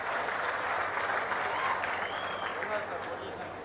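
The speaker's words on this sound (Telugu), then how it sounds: "బాగా చేసిన దానికి మాత్రం చప్పట్లు కొట్టి అభినందించండి." Steady applause from an audience at a public meeting, a dense continuous patter of many hands held at an even, moderately distant level for several seconds.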